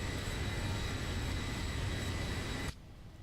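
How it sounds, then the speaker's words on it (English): Boeing 737-800 jet taking off in the X-Plane 12 flight simulator, a steady loud engine roar with a whining tone that runs throughout and then cuts abruptly to a quieter hum near the end, with no talk. "That was a powerful takeoff."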